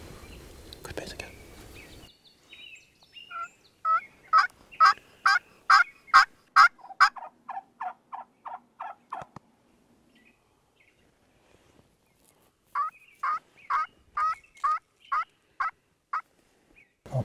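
A wild turkey gobbles during a hunt, and a low whispered voice is heard first. Two runs of rapid, rattling gobble notes follow, the first loud and close, then a gap, then a second shorter run.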